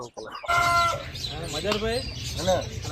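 An Aseel rooster clucks and calls loudly, close by, a few rising, throaty bursts over a steady outdoor background.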